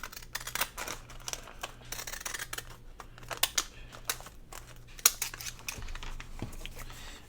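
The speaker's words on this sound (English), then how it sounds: "It's hard for me to cut straight with these scissors." Scissors cut across the top of a paper lunch bag, giving faint, uneven snips and soft paper crinkles, quiet and close with small pauses between cuts.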